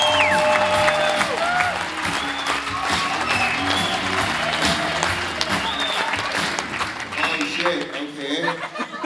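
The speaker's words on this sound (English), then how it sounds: "Big round of applause for your very own Loyiso Gola!" Comedy club audience applauding and cheering loudly as comedian Loyiso Gola is welcomed on stage, steady dense clapping with whoops and some laughter throughout, voices calling out within the crowd.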